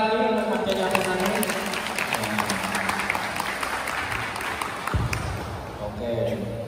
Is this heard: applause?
yes